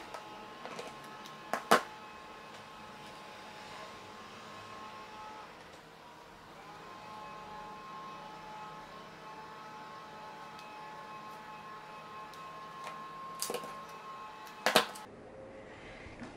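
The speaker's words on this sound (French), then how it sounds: "À la surjeteuse, on va piquer l'extrémité." An overlock serger stitches across the end of a knit rib band for a jacket, giving a steady close mechanical whir with a few sharp clicks near the start and end, and no talking.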